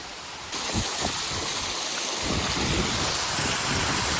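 Waterfall in a dark gorge near Rosa Khutor, heard from above at its top: a steady, loud broadband roar of falling water, continuous and close, with no voices.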